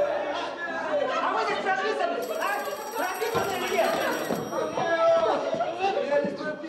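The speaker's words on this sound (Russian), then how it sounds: "А на следующий день сознание Булгакова разорвал телефонный звонок." A bright, high electronic telephone ring sounds for a couple of seconds amid busy overlapping voices and chatter.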